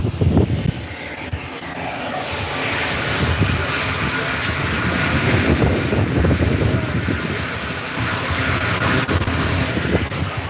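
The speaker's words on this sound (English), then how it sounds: "That's the sound of solid chunks getting sucked up into the vacuum." Septic vacuum truck hose sucks solid waste out of a tank during a septic inspection, a continuous roaring, gurgling rush of air and sludge with uneven surges, close and loud throughout.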